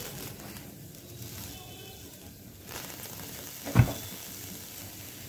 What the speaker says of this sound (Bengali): লঙ্কাটা রসুনটা সুন্দর করে হালকা করে করে ভাজা নিতেছি।